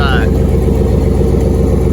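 Loud, steady V8 engine and exhaust of a budget Chevrolet S10 truck running close by, a dense continuous low rumble throughout, with a brief higher whine at the very start.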